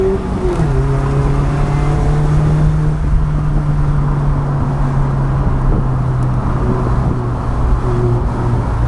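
A Mazda MX-5 on an uphill mountain road at Genting Highlands engine braking after a downshift without a rev match, a loud steady low engine drone holding a sustained pitch from start to end, close and continuous with no talk.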